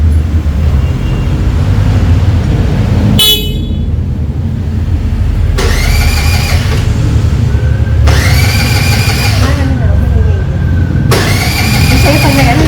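A fuel-injected Honda Navi motorcycle engine starting, heard as several separate cranks and catches in a row, each a short burst of loud mechanical whir followed by rough idling close by.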